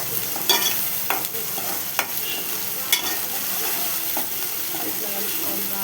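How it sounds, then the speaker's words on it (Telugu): A spatula scrapes and stirs ginger and turmeric in a sizzling frying pan, with a steady hiss and several distinct clacks of the utensil against the metal. "అల్లం, కొంచెం పసుపు వేసుకొని కలపాలి."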